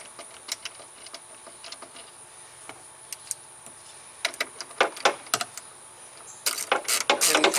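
A ratchet clicks in short runs while an 8mm bolt is tightened on a third-generation F-body Pontiac Firebird rear hatch, the clicks close and sharp, growing louder and denser toward the end.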